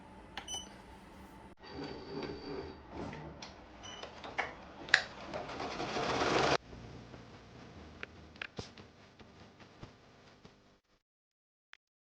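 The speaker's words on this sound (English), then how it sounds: "So let's stitch this out and I will show you guys what it looks like." Embroidery machine stitching out a baby item design, a busy rhythmic mechanical ticking and whirring that runs steadily, then settles into lighter clicks before stopping near the end, heard alone without talk.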